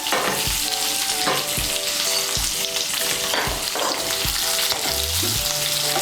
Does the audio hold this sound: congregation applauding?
no